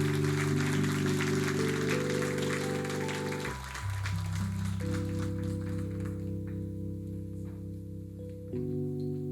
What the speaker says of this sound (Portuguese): Uma salva de palmas para o João.